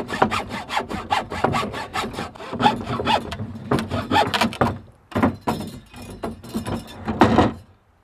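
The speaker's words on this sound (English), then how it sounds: "This is the only saw I have. It's the only other piece of wood I have." A hand saw cuts through a piece of wood in a garage, producing loud, close, rasping back-and-forth strokes in a steady rhythm with a brief pause partway through, with no talk.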